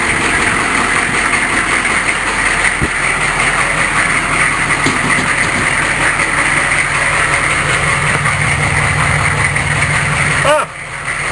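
A cold 6.5 turbo diesel engine idles roughly with a steady putter and putt, loud and continuous, with someone talking over it.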